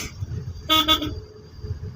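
A car horn gives one short double toot in the middle, loud and close, over a low hum of the vehicle.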